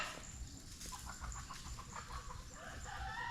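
Chickens cluck and squawk at a property on Siquijor in the Philippines while dogs chase them, a quick excited series of calls, faint and somewhat distant.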